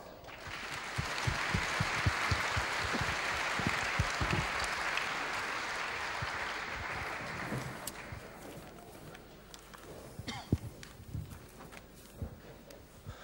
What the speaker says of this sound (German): aber bis dahin kriegen Sie noch mal einen Applaus.